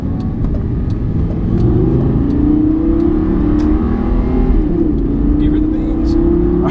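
A Lamborghini Gallardo engine revs and accelerates loudly nearby in second gear, its pitch climbing steadily through the gear with a throaty, sustained roar.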